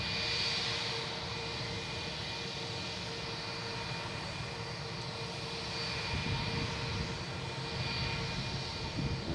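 A Spirit Airlines jet arriving from Miami taxis in at Boston Logan airport, its engines giving off a steady distant roar and whine that swells slightly near the end, with no voices.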